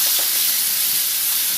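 Spices fry in a hot pan for a paneer noorani curry, giving a steady broadband sizzle and hiss that holds evenly throughout, close and moderately loud, with no talking.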